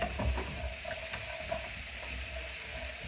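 Onions frying in a pan, slightly burnt, give off a steady close sizzle and crackle with a few soft stirring clinks, and no one speaks.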